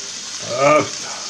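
Chicken livers fry in a pan as they begin to brown, giving a steady close sizzle with a brief voiced sound rising over it midway.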